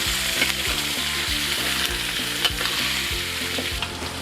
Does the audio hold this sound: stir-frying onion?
yes